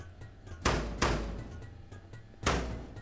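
A purple door in the video game Garten of Banban, heard as three heavy thuds in quick succession, the second and third spaced apart, each with a short boomy decay over a low hum.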